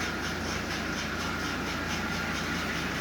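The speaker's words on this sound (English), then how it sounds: "this locomotive is running just absolutely splendidly" A repaired Marx 999 toy train locomotive runs steadily on its track, giving a continuous mechanical whir and rumble at close range with no talking.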